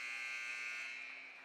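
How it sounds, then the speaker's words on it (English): A sustained electronic intermission buzzer in an ice hockey arena during a women's college game, a loud steady harsh tone holding for over a second before easing off slightly, with no talk. "First intermission buzzer sounds."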